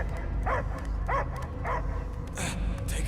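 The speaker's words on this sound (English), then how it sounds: "I hear only barking." A dog barking in Guardians of the Galaxy: four or five short, evenly spaced barks roughly half a second apart, close and moderately loud over a steady low rumble of game ambience.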